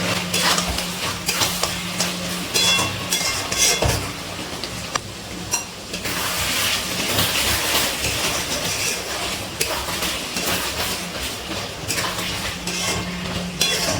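Chicken cooking with fried onions and tomato paste in a pan is stirred over and over, the utensil clinking and scraping against the metal under a low, constant frying hiss.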